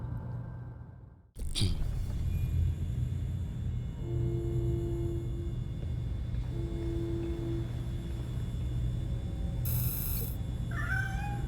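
A cat meows in the video game Gotham Knights, with short tonal calls around the midpoint and a brief high cry near the end. A steady low game rumble runs underneath and no one speaks.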